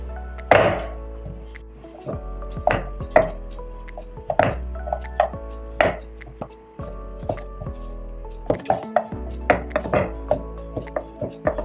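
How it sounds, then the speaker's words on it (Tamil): A knife chops chocolate on a cutting board in a series of sharp, close thuds with a slightly irregular rhythm, about a dozen strikes, while a person talks intermittently underneath. "கட் பண்ணிக்கலாம், சாக்லேட்டு கட் பண்ணிவிட்டு மெல்ட் பண்ணிக்கலாம்."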